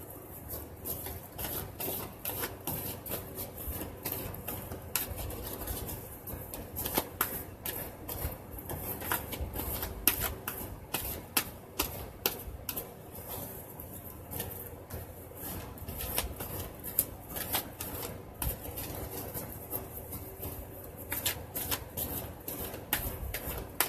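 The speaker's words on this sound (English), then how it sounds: "I'm going to go ahead and shuffle the Angel Tarot cards" A deck of Angel Tarot cards shuffled over and over, a steady run of soft riffling flicks and papery snaps close by, with no talking.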